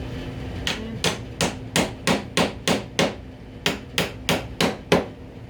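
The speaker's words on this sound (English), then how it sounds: "nail punch here to countersink them." A hammer strikes a nail punch to countersink nails into wooden candlestick stand parts, about a dozen sharp, close metallic taps in a steady rhythm with a short pause midway, with no talk.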